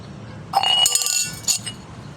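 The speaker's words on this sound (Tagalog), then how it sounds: "Tumba pa yung baso ko." A drinking glass tips over with a bright clatter, then a few sharp glassy clinks and a final ringing knock close by, with quiet room noise before and after.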